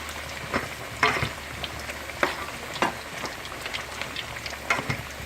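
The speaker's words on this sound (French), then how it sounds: "Donc ça c'est le premier friture." Bananas frying in hot oil, a close, steady sizzle and crackle with sharp pops and spatters breaking out every second or so, with no voices.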